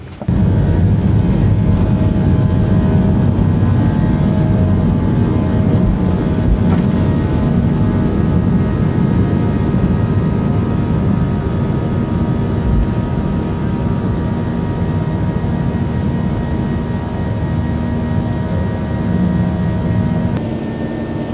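Steady, loud engine drone and airflow rumble fill an airplane cabin in flight over Miami, continuous throughout with no voices.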